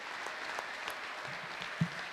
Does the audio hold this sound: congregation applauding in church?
yes